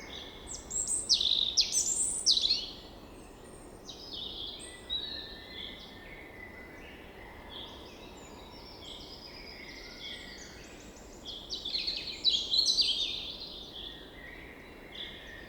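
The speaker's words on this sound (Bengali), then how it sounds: "দূরে নীল আকাশ, পাখির ডাক," Birds chirp and call beside a countryside road lined with trees on a calm morning, bright bursts of song near the start and again toward the end over a soft steady outdoor hush.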